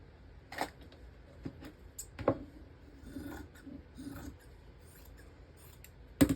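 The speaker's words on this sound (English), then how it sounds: "I'm going to cut the selvages off, the edges." Scissors snipping the selvage edges off fabric pieces on a table, a series of irregular dry clicks and short cuts, close by and fairly quiet, with no talking.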